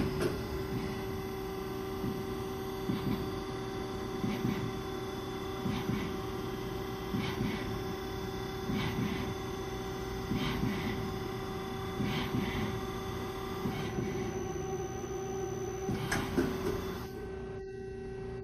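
A CNC machine runs an automatic step drill cycle, a steady mechanical hum with tonal whine and periodic rhythmic pulses of cutting motion, fairly close with no talking.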